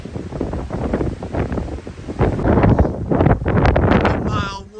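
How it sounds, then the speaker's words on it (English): Strong gusting wind on San Jacinto mountain along the Pacific Crest Trail buffets the microphone with a loud, rumbling roar that rises and falls continuously, swelling harder in the second half. "Windy."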